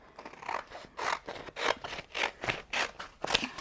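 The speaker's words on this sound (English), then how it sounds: "All right, so we're gonna go ahead and weed any extra." Printed sparkling marble adhesive vinyl being weeded after cutting, with a series of about eight close rasping pulls and peels that come in a quick, uneven rhythm and each fade out after a moment.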